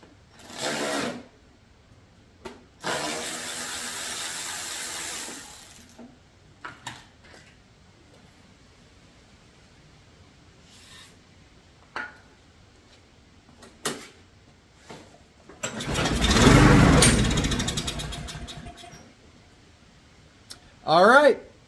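A Craftsman push mower with a gummed-up carburetor, cranked on aerosol starting fluid, giving several short pull-start bursts and one longer rough engine burst near the end of the attempt, with someone talking between them.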